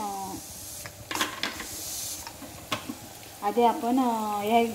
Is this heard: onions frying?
yes